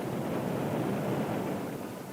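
A waterfall in an animated cartoon roars as a steady broadband rush of water, constant and moderately quiet, with no talk over it.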